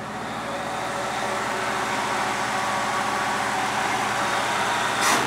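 A 1966 Ford Mustang V8 idles steadily up close with the choke on, a continuous low engine rumble holding even throughout, with a brief rise near the end.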